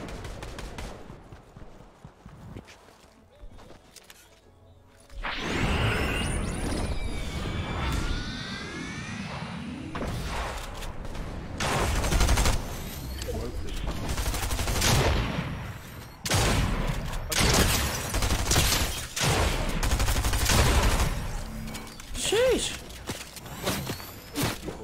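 Gunfire in an online shooter video game crackles in loud sharp bursts and scattered single shots over a constant engine drone, with people talking throughout.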